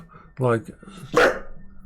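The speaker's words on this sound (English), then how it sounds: "The little dog is doing the guard dog duty because you can hear someone's car outside." A small dog barks sharply twice, close by, reacting to a car outside, with a person speaking briefly around the barks.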